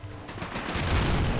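Mosin Nagant sniper rifle firing in the Men of War: Assault Squad 2 battle game, a sharp shot amid a continuous rumble of distant gunfire and explosions.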